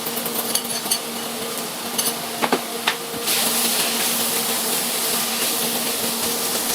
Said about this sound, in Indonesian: Panaskan sedikit minyak goreng, tumiskan bawang merah dan putih sampai harum, lalu masukkan tahu, menyusul masukkan wortel dan kol.